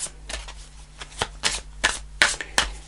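A deck of tarot angel answer cards is shuffled by hand, giving a steady run of soft, rhythmic riffling slaps and papery flutters, close and fairly loud, with no talking.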